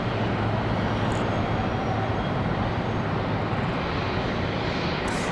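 Airliner taking off from runway 18 center at Charlotte Douglas International Airport, a steady, loud broadband engine roar that holds evenly throughout from a moderate distance, with no speech.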